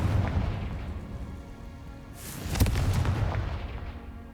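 A Confringo fire spell from the Hogwarts Legacy video game bursts midway as a booming, explosive blast over continuous rumbling game ambience.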